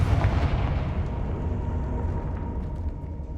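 A Confringo fire spell blasts in Hogwarts Legacy, a dense, rumbling explosive burst with heavy low-end boom that decays into a sustained roar, loud and close, with no talking.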